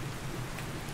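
Steady rain falls in the video game ARK Ascended as a dense, even hiss of ambient showers and patter, continuous and moderately loud throughout, with no voices.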